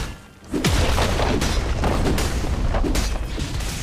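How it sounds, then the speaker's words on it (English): A turret blows up in League of Legends as a heavy, loud boom opens onto a sustained rumbling blast, with several further thudding impacts and whooshes layered over it for a few seconds. "Blue team's turret has been destroyed."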